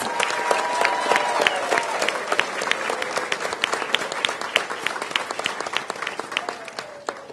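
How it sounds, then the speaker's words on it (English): Crowd applause for the Attorney General at a Washington, DC city event, dense sustained clapping with sharp individual claps standing out, fairly close and steady throughout. "will you join me in giving the Attorney General a big round of applause?"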